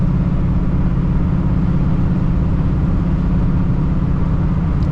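1985 Chevrolet El Camino with an LS3 engine cruising at quarter throttle, a steady, loud, low engine drone with road rumble that holds constant throughout and has no talk over it.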